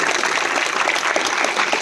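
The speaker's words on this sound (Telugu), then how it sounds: "11 క్లాప్స్ ఇవ్వండి." A classroom of students claps together on a teacher's cue, a steady, fairly loud patter of many hands that runs without pause for the whole short stretch.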